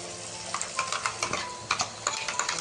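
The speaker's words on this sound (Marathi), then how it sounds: "हा अद्रक लसण आणि कांदा तो पण ऍड करू पूर्ण." Ginger, garlic and onion going into masala frying in a pan for misal rassa, with quick stirring scrapes and clinks over a soft sizzle, close and fairly loud.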